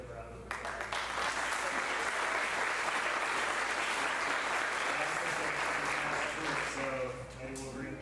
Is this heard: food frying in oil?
no